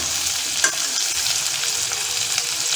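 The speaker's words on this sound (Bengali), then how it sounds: "তো আমি এই বড় বড় আলুগুলোকে ভেজে নিচ্ছি" Large potatoes fry in a pan with a loud, continuous sizzle, and a few stirring scrapes rise above the steady crackle.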